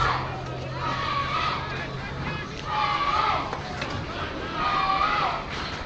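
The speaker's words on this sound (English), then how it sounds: "The crowd's starting to come alive here." Crowd at the 1992 Darwin Football Association seniors grand final between West Ulverstone and Yolla, a swelling, distant sung chant rising in waves under continuous commentary.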